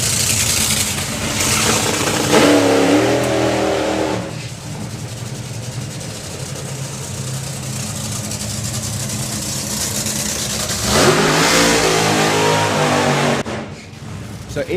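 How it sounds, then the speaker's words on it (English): Drag racing car at a 2023 FIA drag racing main event, its engine holding a loud, steady low rumble that swells into heavier revving bursts near the start and again toward the end of the burnout, with a commentator talking over it. "So interestingly from Ida, she did her burnout way over to the left, outside of the groove."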